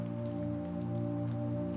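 Steady rain falling in a forest, a soft even patter running under a low constant hum, with no voices.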